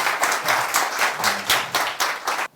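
An audience claps at a Korean political talk session, with a string of sharp, fairly regular claps from a few people. The claps are close and moderately loud, with faint voices beneath them.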